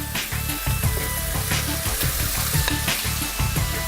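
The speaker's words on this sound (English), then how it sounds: "I'm going to add back into the pan the rest of the beef," Beef, lardons and onion sizzle steadily in a hot pan, a loud, continuous frying hiss with faint stirring scrapes throughout.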